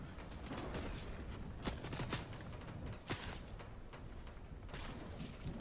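Enemy gunfire in a video game, a busy mix of rapid shots and cracks over a dense, continuous battle rumble, with a few louder reports standing out.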